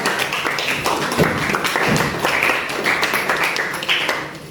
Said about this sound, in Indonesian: Oke, tepuk tangan untuk kelompok satu.